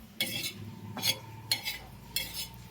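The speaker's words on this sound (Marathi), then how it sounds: "हे बघा, असं खोबरं भाजून घ्यायचं आहे आपल्याला एकदम खरपूस" Grated coconut dry-roasting in a pan for patvadi rassa, stirred with a utensil in four distinct, close scraping strokes spaced about half a second apart, with faint clinks against the pan and no talking.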